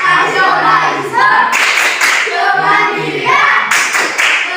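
A classroom of students performs a group clapping chant, Tepuk PPK, with rhythmic bursts of claps alternating with voices chanting in unison, loud and close throughout.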